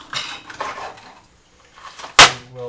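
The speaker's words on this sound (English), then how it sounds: "I'm going to just start slicing it into pieces" Knife slicing a deseeded vegetable into pieces for the grill, heard as a few soft cuts followed by one sharp knock of the blade against the board or plate, with no talking.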